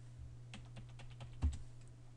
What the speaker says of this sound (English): we're going to type unhide with the password